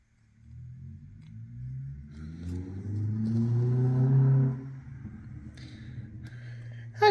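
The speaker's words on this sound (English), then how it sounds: "I do apologise for that noisy car outside" A noisy car passes outside a room where someone is cross-stitching: a low engine rumble swells over a few seconds, peaks, then eases off to a steady background hum, with no talking.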